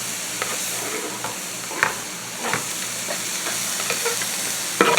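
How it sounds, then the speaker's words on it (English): Sliced vegetables searing in a hot pan alongside browning cheesesteak meat for egg rolls, giving a steady, moderate sizzle with scattered clicks and scrapes of stirring throughout, no voices. "what I'm going to do is add my veggies in here and get that seared off to kind of tenderize it a little bit"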